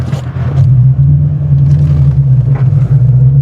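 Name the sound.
2013 Ford Mustang GT engine driving, shifting through gears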